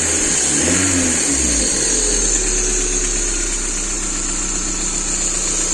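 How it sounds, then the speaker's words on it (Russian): Idling car engine with hydraulic lifters that have not pumped up, knocking and running noisily, a loud steady drone with a rattly ticking texture, plus a high whine from a worn tensioner pulley. "Ну, слышен стук. Стаканчики пустые, гидрики не накачались, мотор работает шумно."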